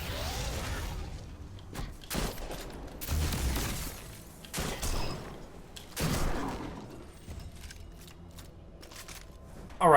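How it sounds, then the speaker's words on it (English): Ragnilid shotgun blasts in the sci-fi shooter Destiny 2, several heavy separated shots with mechanical clacks and whooshes between them, moderately loud with quiet gaps and no talking. "we're going to use the Ragnilid shotgun"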